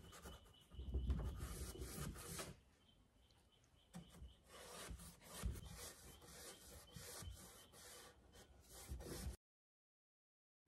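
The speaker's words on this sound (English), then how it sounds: "I just use a small stiff bristle brush just to apply the dark brown wax into all the sort of corners and details" A small stiff-bristle brush scrubs dark brown wax into the corners and carved details of painted furniture, giving close, dry, raspy rubbing strokes in uneven bursts that stop abruptly near the end.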